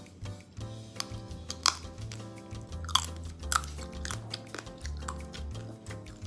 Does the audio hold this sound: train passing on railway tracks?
no